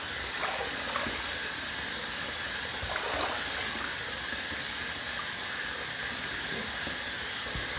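Water runs steadily from a tap as a bald head is wetted before shaving, a close, continuous hiss with a few faint splashes and no pauses.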